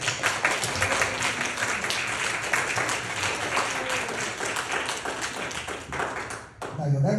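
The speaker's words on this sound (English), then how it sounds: "So I'd like to give a round of applause and a thank you to Sandy Olson." A church congregation at an annual parish meeting claps for an award recipient, a steady round of many hands with a few voices under it before it fades out.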